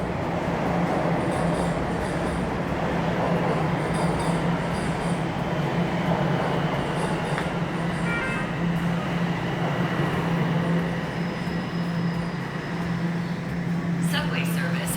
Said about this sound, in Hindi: ओके, ट्रेन मेरी आ चुकी है।